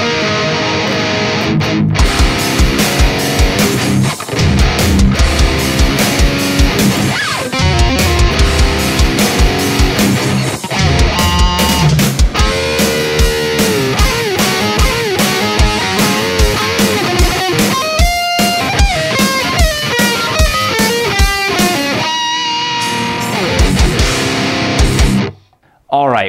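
A heavy, distorted electric guitar through a Neural DSP amp plugin riffs over driving drums, loud and dense, with fast chugging passages and brief melodic leads before cutting off abruptly.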